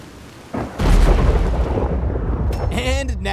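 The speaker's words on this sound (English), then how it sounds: "It should be raining and thundering." A thunderstorm near Annesburg in the video game Red Dead Redemption 2 opens with a sudden loud thunderclap that rolls into a heavy, sustained rumble, ending with a rising tonal whine.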